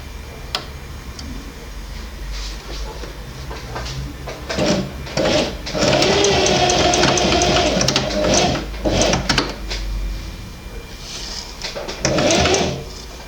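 A sewing machine stitches fabric in reverse, a close, steady mechanical whirr with ticking and clacking bursts of varying length over several seconds, with no talking.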